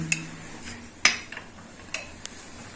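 Sharp metallic clicks and clinks ring out as an extension and socket wrench are fitted onto the valve of a concealed bidet faucet, several separate taps spread over a few seconds against a quiet background.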